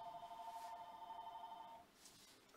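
A telephone rings with a steady electronic tone for almost two seconds, then cuts off, heard at moderate volume in a busy media room during a boxing press event.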